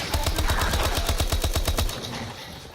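SMG fire in the Black Ops 3 video game: a loud, rapid burst of automatic shots with an even rhythm, about a dozen or more cracks in under two seconds, then a quick tail-off.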